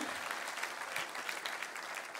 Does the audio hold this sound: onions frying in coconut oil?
no